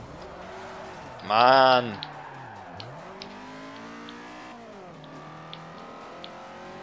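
Race cars overtake in Forza 4, engines whining with shifting pitch that rises and dips through gear changes, while a man lets out a short loud exclamation partway through.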